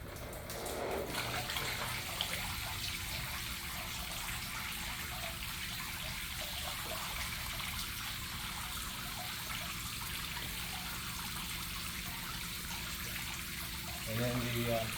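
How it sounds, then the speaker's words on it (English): Quench water turned on and flowing, a steady hissing rush of running water that continues evenly throughout, with a brief louder change near the end. "Then we would turn on the quench water down here."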